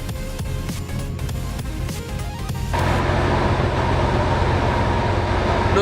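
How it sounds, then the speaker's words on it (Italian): Inside a moving train in darkness, a steady low rumble and rattling clatter of the carriage fills the space, growing louder and denser partway through as the roar rises. "Non sapete quanto è difficile registrare un video in treno"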